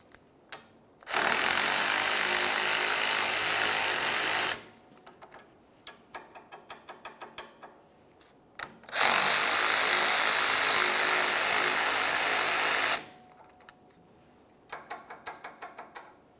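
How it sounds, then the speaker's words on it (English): Mechanical work on the tie rod adjusting sleeve clamp nuts of a 2007-2018 Jeep Wrangler, with a 15mm wrench loosening them: two long, loud bursts of broadband ratcheting or power-tool whirring, separated by short clicks and clinks of the tool. "Now let's move along to each of the mounting nuts that hold the sleeve clamp on. We'll use a 15mm to loosen each of these."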